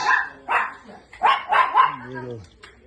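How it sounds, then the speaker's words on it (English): Small dogs yap and bark in quick, high-pitched bursts close by, a few sharp barks followed by a whiny, drawn-out yelp. "vicious little dogs."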